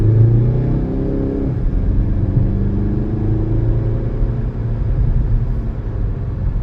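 A car's interior drone during a test drive, a steady low engine rumble and road noise held at an even level throughout, close and continuous with no talk.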